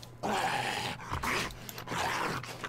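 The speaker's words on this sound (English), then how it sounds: "I got a wolf barking." Wolves in the survival game 7 Days to Die bark and growl, harsh snarling bursts in a quick series of close, loud outbursts with brief gaps between them.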